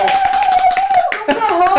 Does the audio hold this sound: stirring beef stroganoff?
no